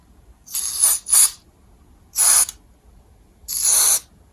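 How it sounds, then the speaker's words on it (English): Four short hissing bursts of contact cleaner sprayed into a quarter-inch jack on a Yamaha P90 digital piano, the first two close together and the others spaced apart, with quiet in between. "Wherever the quarter-inch jack goes, I'm going to spray the contact into it."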